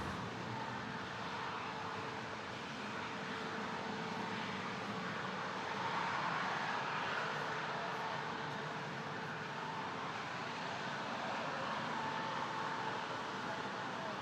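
Airliner jet engines at Toronto Pearson airport give a steady, distant broadband roar that swells slightly partway through and holds without a break.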